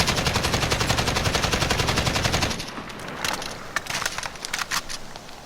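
An RPK light machine gun in Modern Warfare fires a sustained, rapid automatic burst, loud and close, without recoil compensation; the steady rhythmic shots stop midway and are followed by scattered sharper cracks and impacts.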